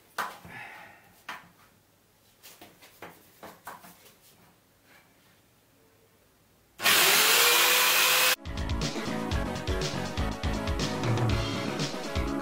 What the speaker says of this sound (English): it won't bite into the wood, it keeps just glancing off because it's so thin this end